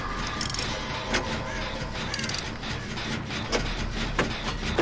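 A generator being repaired in the video game Dead by Daylight gives off a steady mechanical grinding and ratcheting, with periodic sharp clicks and clanks over a continuous low hum.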